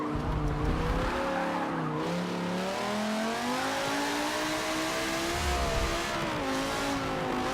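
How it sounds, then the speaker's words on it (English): A V10-swapped car in Forza Motorsport 7 racing game, engine droning and revving up and down with tires squealing and skidding, loud and continuous with no talk. "It's actually a V10 engine I've crammed into there."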